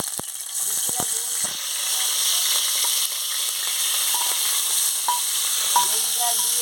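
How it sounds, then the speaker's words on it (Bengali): Freshwater snails fry in hot oil in a pan with a steady, close sizzle and crackle. Occasional scraping stir sounds are heard throughout. "তেল গরম হয়ে গেছে, আমি গেঁড়িটা দিয়ে দিচ্ছি।"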